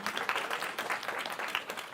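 Audience members at an influencer panel clap briefly, a soft, fairly distant patter of many hands lasting a couple of seconds with no talk over it.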